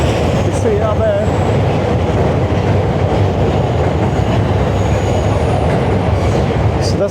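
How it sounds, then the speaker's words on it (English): A JR Yamanote line train passes through Ginza, Tokyo, with a loud, continuous rumble and clatter of wheels on track that stays steady throughout, faint squeals riding on top. "That's definitely a train."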